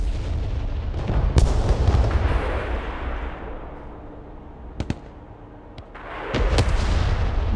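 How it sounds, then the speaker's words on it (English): Mortar artillery fire in the military strategy video game Broken Arrow: heavy booming launches and blasts rumble loudly amid battlefield noise, with a few sharp cracks and a fading lull before another rolling barrage. "Mortar ready to engage"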